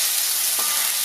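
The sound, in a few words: ground spice paste frying in hot cooking oil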